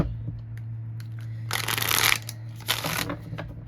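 Cards are shuffled in two brisk riffling bursts, close and crisp, over a low steady hum.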